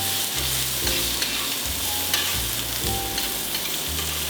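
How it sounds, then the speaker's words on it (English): Wine with sage leaves reduces in a hot pan, producing a steady close sizzle and bubbling hiss, with a low background hum underneath and no talking. "We're gonna pour the wine in, sage leaves. We're gonna let it reduce."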